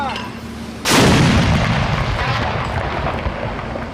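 A single artillery gun fires during a military operation in Iraq near Samarra, one massive close boom that hits suddenly and then rolls and decays slowly over several seconds, after a brief quiet moment.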